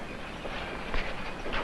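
A train rolls along with a steady dense rumble and faint rhythmic clacking, moderately loud and continuous, with no voices over it.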